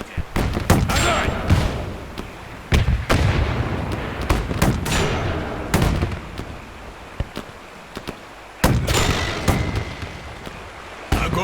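Cannons and tanks fire in the WW2 strategy game Men of War II: a rapid series of sharp, booming blasts, some in quick clusters, others spaced apart, while voices shout commands.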